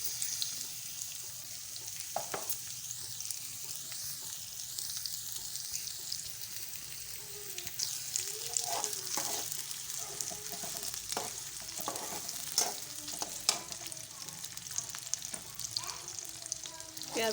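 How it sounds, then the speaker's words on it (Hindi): Onions frying in a pan until brown for a fish curry, a continuous close sizzle with frequent scraping and stirring strokes of a spoon, moderately loud, no talk. "और इसमें प्याज डालकर ब्राउन कर लेंगे"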